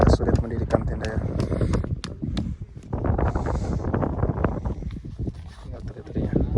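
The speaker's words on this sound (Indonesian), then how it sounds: "Jadi anginnya semakin kencang nih, sulit mendirikan tenda ya." Strong wind buffets the microphone at a cliffside campsite in Tana Toraja where a tent is being pitched, a continuous loud rumbling roar throughout with a person talking over it.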